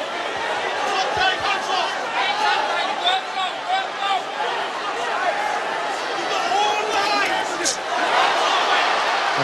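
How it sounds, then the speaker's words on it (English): Boxing arena crowd at the Tony Thompson vs David Price heavyweight fight, a loud continuous roar of cheering and chatter from the spectators, swelling and dipping throughout with no pause. "The crowd on their feet already at the start of this third."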